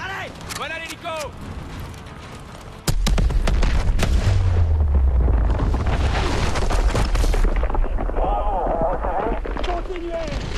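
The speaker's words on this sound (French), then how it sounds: "On ne peut pas s'approcher de ces explosions." Explosions in Call of Duty Advanced Warfare go off in a heavy boom that starts a long, dense rumble of blasts and debris, mixed with game effects and voices talking.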